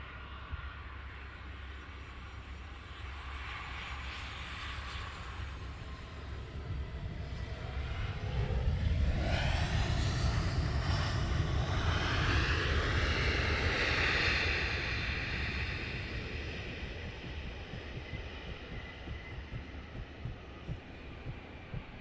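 A plane taxiing at foggy Luton Airport gives a low, distant engine rumble that swells to a louder roar midway with a rising whine, then slowly fades back to a faint hum.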